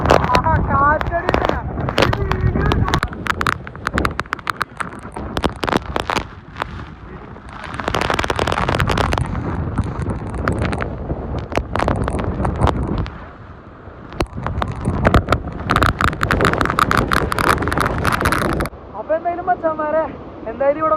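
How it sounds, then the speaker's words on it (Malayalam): Wind gusting and rain pouring at a waterfall in Kerala that sees rain around the clock, loud broadband roaring surges that swell and ease throughout, with voices talking at times. "കാറ്റടി"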